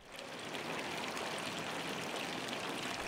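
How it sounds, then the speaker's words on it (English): Water from a historical fountain in Bern's Old Town splashes and streams in a steady, close, continuous rush that fades in at the start, with no voices. "The historical fountains add extra character to the Old Town."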